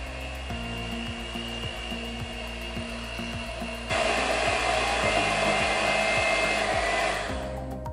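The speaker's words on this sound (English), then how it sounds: "Then we're gonna use an electric hand mixer to mix all these ingredients." An electric hand mixer whirs steadily through cream cheese, Biscoff spread and icing sugar for a no-bake Lotus Biscoff cheesecake, its beaters knocking rhythmically against the bowl, the motor pitch rising midway as speed increases before stopping.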